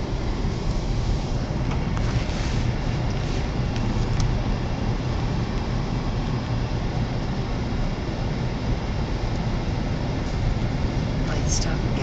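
Blizzard wind in Inuvik, Northwest Territories, a loud constant roar and rumble that blows without pause from start to end.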